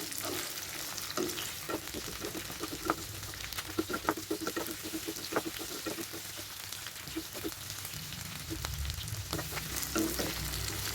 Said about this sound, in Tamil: குடமிளகாயே சேர்த்தாச்சு. இதையும் நல்லா வதக்கி விட்டுக்கலாம்.